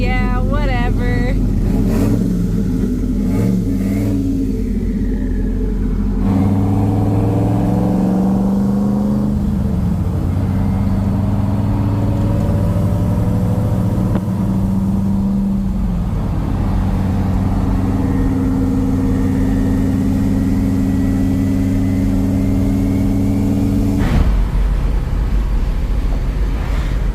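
Classic cars accelerating hard as they race each other back to the shop near Malibu, close engine roar rising through revs and gear changes, with brief lulls, loud and sustained throughout.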